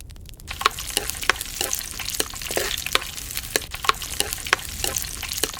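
Cashews and raisins frying in a mix of ghee and coconut oil, a continuous crackling sizzle punctuated by regular sharp spoon taps and scrapes against the pan.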